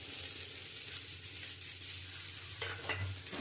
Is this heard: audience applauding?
no